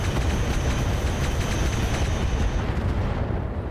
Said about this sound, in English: it looks as though the Overlord just going to get to keep shooting